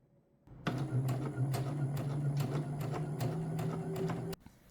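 A sewing machine stitches fabric for summer accessories in one short burst of a few seconds, a close, soft mechanical whir with rapid needle ticking that stops abruptly.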